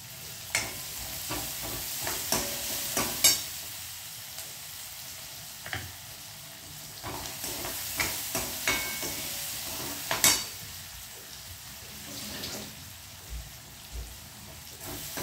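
Chopped onion and tomato fry in a hot pan for a cauliflower dry vegetable dish, a steady sizzle punctuated by repeated scraping stirs and small pops throughout, close and fairly loud with no voices.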